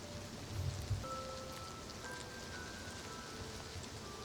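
Steady rainfall patters across the landscape in the video game Oblivion Remastered, near the mountain road between Bruma and the south, a soft continuous wash of drops with faint tonal ambience, no voices.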